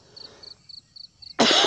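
A single harsh cough bursts in loudly at the end, after a quiet stretch of faint rhythmic chirping insects outdoors on Gunung Karang, Pandeglang.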